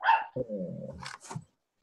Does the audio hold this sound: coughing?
no